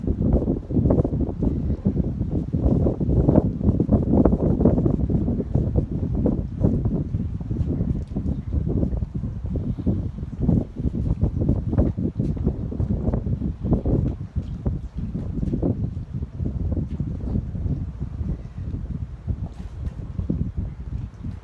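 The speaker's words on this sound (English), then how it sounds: "Of course, now we have high winds." Strong, gusty outdoor wind roars and buffets the microphone continuously, a dense low rumble that surges and eases without letting up.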